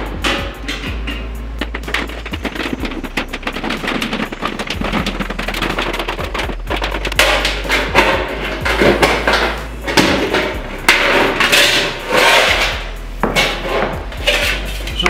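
Metal duct pipe for a dust collection system is cut by hand, producing a rapid series of sharp metallic snips, clanks and rattles that grow louder and denser in the second half, heard close up with no talking.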